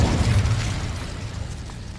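Casting the Incendio fire spell in Hogwarts Legacy sets off a loud, low whooshing burst of flame that rumbles up at once and slowly fades over about two seconds.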